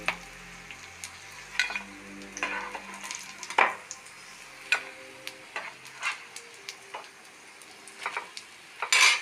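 Egg cutlets frying in hot oil, a soft continuous sizzle broken by frequent clicks and taps of a utensil against the pan, close by and without talk.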